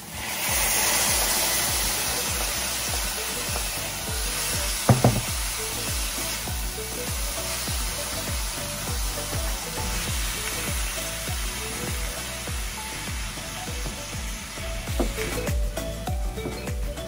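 Caramelized ground beef sizzles steadily in a hot pan for ampalaya con carne, a dense continuous hiss with repeated scraping and stirring knocks throughout and a few sharper clatters near the middle and end.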